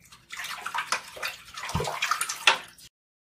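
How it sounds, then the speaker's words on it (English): A dirty Amiga 600 computer part is scrubbed under water in close, uneven swishing strokes that splash and gurgle for about three seconds before stopping abruptly. "This is the one that needs scrubbing"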